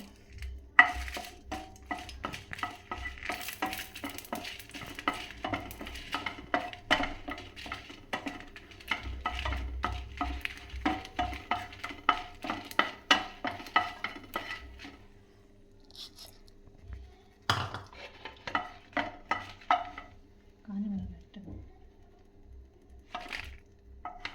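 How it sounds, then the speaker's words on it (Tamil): Dried red chillies roasting in a pan, stirred with quick repeated scraping and rattling strokes over a light sizzle, pausing, then resuming with a few louder clanks before fading. "இப்போ இது காஞ்ச மிளகா போடுறோம்."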